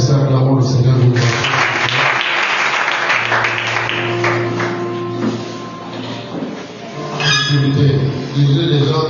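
Church congregation clapping and cheering throughout a worship service, a dense sustained applause with voices shouting and singing over it.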